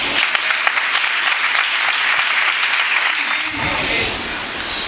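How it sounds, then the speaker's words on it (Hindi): Sustained applause from a church congregation, many hands clapping at once in a dense, steady wash that stays loud throughout and thins slightly near the end. "वो लोग तालियों के लायक हैं जो उसके घर में यहां पर आए"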